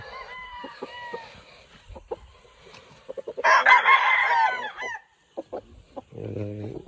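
Golden Boy gamefowl roosters crow on a farm. Clucks and shorter calls come first, then a loud, close cock-a-doodle-doo, followed by another crow starting near the end.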